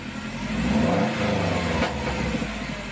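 Subaru turbo engine fitted with a Perrin blow-off valve revs up under throttle, a loud, steady engine roar that swells briefly and settles, close by with no talking.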